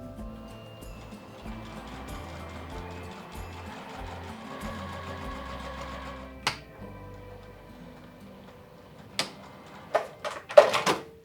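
A sewing machine runs a quarter-inch seam on dress fabric, a steady mechanical whir with rhythmic ticking for about six seconds, followed by quieter clicks and a few sharp knocks as the fabric is handled.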